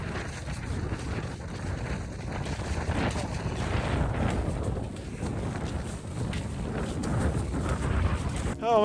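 Blustery wind buffets the microphone during the Ushuaialoppet 2024 ski marathon in Ushuaia amid rain and snow, a loud continuous rumbling roar with gusty surges and no clear talk.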